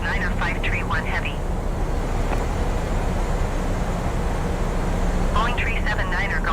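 An airliner taking off in Microsoft Flight Simulator 2020 makes a steady, loud broadband engine roar throughout, with radio-style voices talking over it at the start and end.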